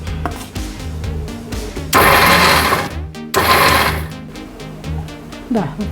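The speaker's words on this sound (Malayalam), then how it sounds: "കാന്താരി ഇത്തിരി ജീരകം തേങ്ങയും കൂടി ഇട്ടിട്ട് ചതച്ചിങ്ങെടുക്കുക" Kanthari chili, cumin and coconut being crushed for jackfruit puzhukku, with loud bursts of rough grinding around the middle, set among clattering kitchen handling noises.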